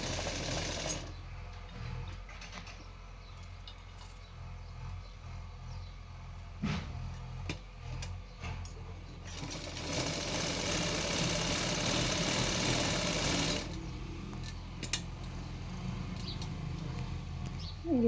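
Sewing machine stitching a long frock, its motor whirring in close bursts with short pauses and one longer steady run in the middle.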